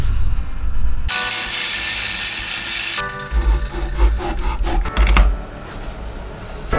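A threaded bolt for a V8 Miata build is cut down with a hand tool, producing a harsh, steady rasping stroke, then a series of shorter scraping and clinking sounds close by.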